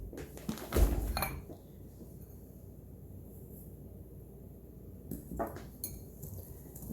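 Dry dishwasher detergent ingredients with citric acid being whisked in a bowl, brisk scraping clinks in two short bursts separated by a quieter stretch.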